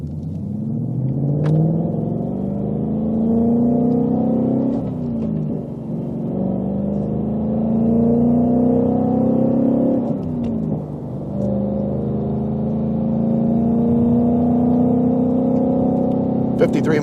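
A yellow 2021 Ford Mustang Mach-1 with a manual gearbox pulls away and accelerates hard, its engine rumbling loudly as it climbs through the gears, with each rising pull briefly interrupted by a shift.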